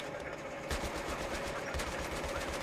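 Rapid gunfire bursts from the Battlefield 3 video game on PS3, loud and dense over a steady background din, with a couple of heavier shot clusters and no voices.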